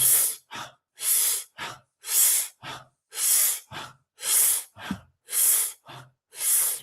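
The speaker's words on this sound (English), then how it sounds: "keep on breathing" Deep rhythmic breathing during a guided energy-boosting breathing exercise, roughly six long airy breaths each followed by a short one, close and loud with silent gaps between.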